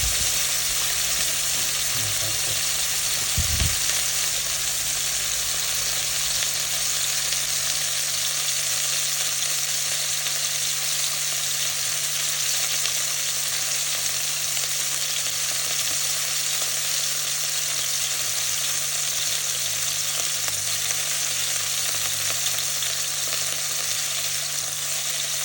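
Beef steak sizzles steadily in a hot pan after being flipped to cook the second side, a continuous close hiss with a brief clatter near the start and no talking.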